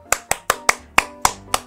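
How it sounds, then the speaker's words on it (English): Seven sharp, close hand claps in a quick, slightly uneven rhythm, each a crisp snap with a short decay and near silence between them. "I was just clapping."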